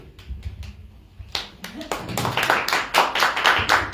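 Audience hands at a Dallas political candidate forum for District 30, starting as a few scattered claps and building after a second into fuller, uneven clapping from a modest crowd, close and moderately loud.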